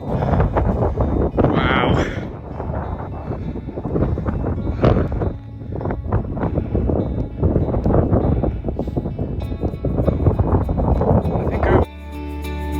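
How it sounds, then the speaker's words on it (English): Gusty wind buffeting a microphone at the Norber erratic glacier boulder field in Yorkshire, a loud, rough rumble that rises and falls throughout, with a brief exclamation from a person. "Wind's got picked up."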